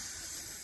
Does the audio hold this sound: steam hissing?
yes